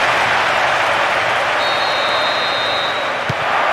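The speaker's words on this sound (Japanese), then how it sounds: "スタジアム中が大歓声で揺れている。" Dense, steady roar of a stadium crowd cheering during a Brazil versus Croatia match in the PlayStation 2 soccer game World Soccer Winning Eleven 10, continuous and loud with a thin whistle-like tone partway through.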